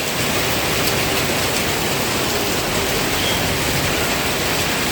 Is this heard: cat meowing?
no